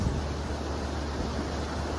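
Return Creek on the Pacific Crest Trail, south of Tuolumne Meadows, rushes steadily as a loud, constant broadband roar of flowing water with no talk.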